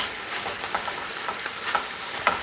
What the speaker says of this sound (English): I want you to hear that sizzling, that fry sound.